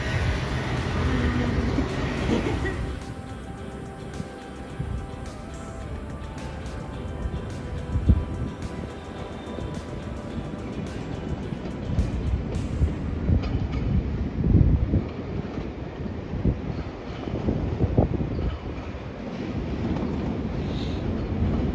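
Train rolling through Paris, a continuous low rumble with rhythmic clatter and wind buffeting the microphone, steady and moderately loud throughout.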